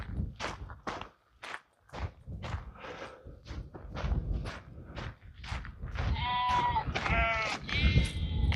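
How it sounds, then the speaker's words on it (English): Wild sheep bleating outdoors on a hillside, several calls in quick succession, some nearby and loud, mixed with footsteps crunching on the ground. "Oh, wild sheep."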